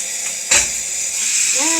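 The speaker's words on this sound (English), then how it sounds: "And open it up so that all the steam can escape." Steam hisses out as the lid comes off a cooking pot of burdock root with miso, a sharp burst of broad hiss followed by a steady rushing release.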